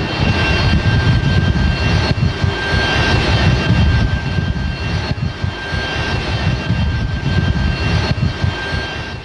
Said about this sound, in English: During recovery, the aircraft hook catches one of the four high-tension arrestor wires on the deck